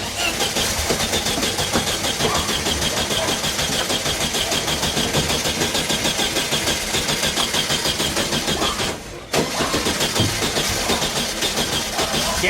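A VW Beetle engine cranking repeatedly as it tries to start after an ignition switch replacement, a continuous rhythmic churning drone with a brief dropout near the end, heard close and alone.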